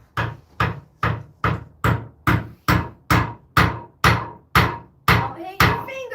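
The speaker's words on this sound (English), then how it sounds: "I get it small enough that I can get it started through the hole in the doweling plate, and then I hammer it through." Wooden peg hammered through a hole in a doweling plate during peg solitaire game making: about thirteen sharp, evenly spaced hammer blows, loud and close, with no talk.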